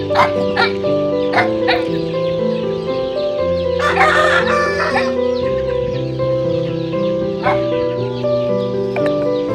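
Roosters crow repeatedly over a steady clucking of chickens, with loud, overlapping calls close by and a dog barking briefly in the mix.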